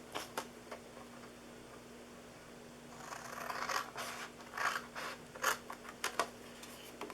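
Scissors cut along the side of a paper gift box, faint scattered snips at first, then a quick series of close crisp cuts and rustles.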